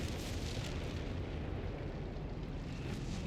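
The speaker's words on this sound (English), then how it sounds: "Artillery hitting the Whizbang." Artillery shells striking a Whizbang in Company of Heroes 3, a continuous dense roar of explosions and rumbling blasts filling the whole stretch at steady loudness, with no clear gaps.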